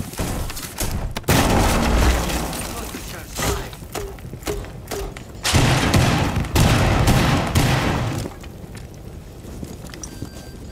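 Grenade blast and bursts of gunfire in the Rainbow Six 3 tactical shooter game, a run of loud booms and rapid shots separated by short gaps, with rumbling echoes filling the space between them.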